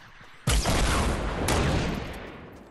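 A sudden loud burst of gunfire from the game Fortnite, with a second crack a second later, then a long ringing decay; no talking.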